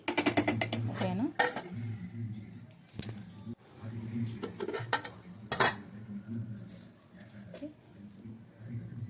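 A metal spoon stirs and scrapes dried mutton with garlic and chilli in a pan on a low flame, giving irregular clinks and scrapes under a person talking.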